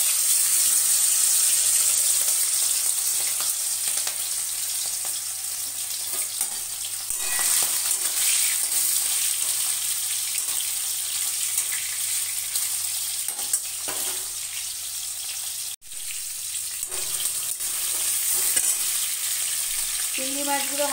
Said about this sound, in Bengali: মাছগুলো খুব হালকা করে একটু ভেজে নেবো।